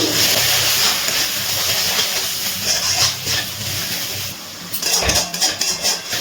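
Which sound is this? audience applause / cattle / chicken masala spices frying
chicken masala spices frying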